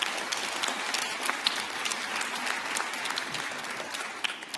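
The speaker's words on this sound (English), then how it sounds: "I'd like to give them a round of applause." Steady applause from an audience at a school jazz festival, many hands clapping densely and continuously at moderate distance, without pause for the full length.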